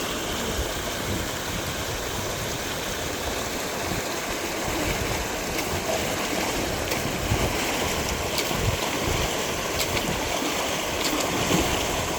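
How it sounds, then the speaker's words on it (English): Water draining down a channel outdoors on a farm by a fishing spot, a continuous rushing, gurgling wash with wind-like hiss, steady and fairly loud, with no one talking. "Do you know the water is flowing down?"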